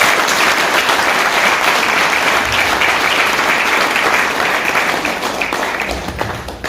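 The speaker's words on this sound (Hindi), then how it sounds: "जोरदार तालियां हो जाती हैं।" Loud, dense applause from a seated audience at an indoor gathering, sustained for several seconds and tapering slightly toward the end, with no speech over it.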